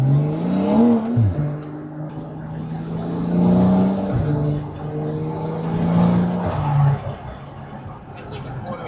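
A Porsche GT2 RS engine revs at about quarter throttle, with rising and falling tonal whines in a few swells and a steady drone between them, loud and close, with talking over it.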